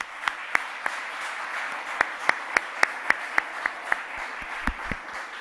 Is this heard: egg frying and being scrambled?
no